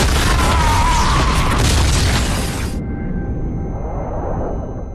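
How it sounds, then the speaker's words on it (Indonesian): A rocket bomb blast from the action film The Expendables 3 hits as a loud, dense boom with a rushing whoosh, then cuts abruptly into a lower rumbling aftermath with a faint tone. "Samidi meluncurkan bom roket ke arah mereka."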